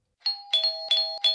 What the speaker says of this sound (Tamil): ஏண்டா காலிங் பெல் அடிச்சிட்டே இருக்கேன்